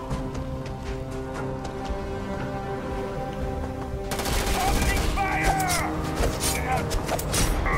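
Spaceship guns fire in the video game Starfield as rapid, crackling bursts layered over game ambience, growing denser and louder halfway through.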